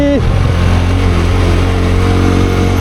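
A Royal Enfield motorcycle engine runs close and loud in gear, settling from a higher rev to a steady, deep, throbbing drone that holds without a break.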